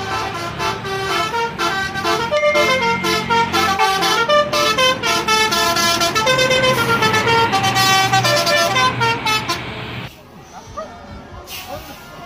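A loud tooting telolet horn melody from an Indonesian toy bus plays over a rumbling engine, passing close by, then fades to quieter rustling.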